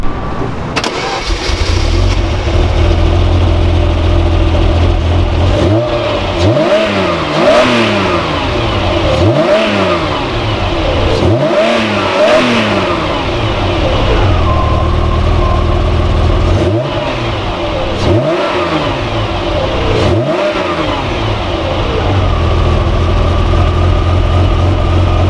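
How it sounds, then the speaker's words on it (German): A Ferrari Testarossa engine revs repeatedly in several rising and falling bursts over a steady idle, close and loud, with no talking. "das war mein kurzes Video zum Ferrari Testarossa"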